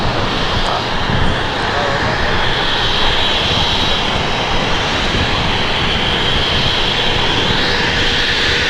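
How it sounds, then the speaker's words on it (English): A Virgin Atlantic Airbus A350-1000 jet arrives at LAX with a loud, steady engine roar that holds throughout, broad and rushing, without distinct peaks, while radio or commentary speech runs faintly underneath. "Rudy's got the Virgin Atlantic A350 1000 about to arrive there on the north side"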